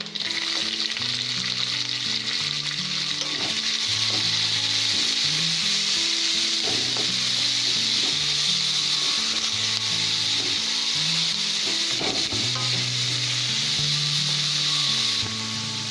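Capsicum and onion fry in a pan with a steady, close sizzle, broken by repeated scraping stir strokes throughout.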